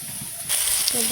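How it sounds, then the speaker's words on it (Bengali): Fish dropped into hot oil in a home kitchen, a sudden loud sizzle bursting in midway and holding steady as a bright continuous hiss, with quiet voices beneath. "মাছ ভাজবে"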